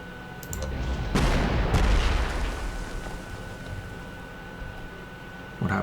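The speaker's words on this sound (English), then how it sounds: "We can, boom. Bombard you as well." Artillery bombardment in the strategy game Panzer Corps 2, a heavy rumbling burst of explosions with sharp cracks that rolls on and slowly fades, followed by a brief final thump.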